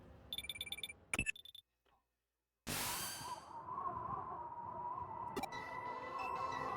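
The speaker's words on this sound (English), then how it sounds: "The white noise in this is really bad." Electronic beeps and clicks, then a short silence, then a burst of steady hissing white noise over a garbled transmission in Digimon Story: Cyber Sleuth, running to the end with a faint tonal hum inside it.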